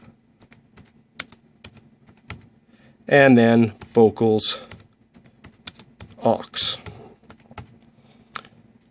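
Computer keyboard typing while setting up aux and vocal effect buses in a digital mix, a steady patter of light key clicks running throughout, interrupted by a few bursts of nearby talk.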